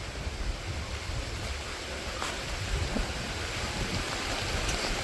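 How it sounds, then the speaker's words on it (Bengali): Steady rain falling outdoors in a village, a dense, even hiss of broadband patter close by that holds at a constant level throughout, with no voices. "আর বৃষ্টি পড়তেছে দেখি"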